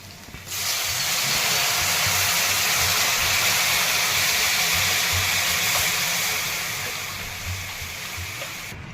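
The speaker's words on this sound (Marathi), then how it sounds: "पाणी टाकून घेते यामध्ये" Water poured into a hot pan while making upma, giving a loud, steady hiss and steam roar that holds for several seconds, then eases slightly toward the end, with no talking.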